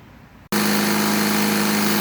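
An electric air pump starts abruptly and runs with a loud, steady droning buzz, inflating a car tire on a cracked rim repaired with JB Weld, close and continuous with no talk.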